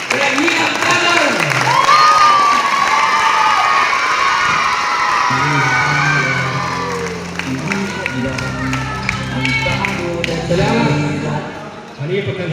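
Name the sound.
crowd applause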